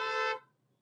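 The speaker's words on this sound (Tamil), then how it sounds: "ஹாரன் ஒரு தடவை." A car horn sounds once in a single short, loud blast that cuts off cleanly, leaving quiet road hum behind.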